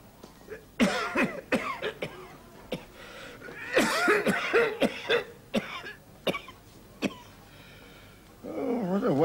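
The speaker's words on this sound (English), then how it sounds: "Have you ever thought that that cough of yours might have some connection with those cigarettes you keep smoking?" A man coughs repeatedly in a quiet indoor room, with several short harsh bursts and some throat clearing, loud and close, and a brief spell of talk at the end.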